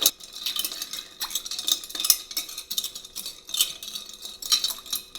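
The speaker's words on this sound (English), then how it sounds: "All right, let's give this a stir." A grapefruit, Campari and gin cocktail gets stirred, a spoon scraping and clinking against the glass and ice in quick, uneven swirls, close and fairly quiet with no talking.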